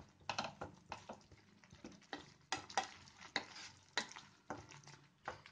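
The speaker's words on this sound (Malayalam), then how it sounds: "നമുക്കിനി ഇളക്കി കൊടുക്കാം" A spoon stirs cauliflower gravy in a pan, making repeated irregular scraping and clinking strokes over a faint sizzle, close and fairly quiet, with no talking.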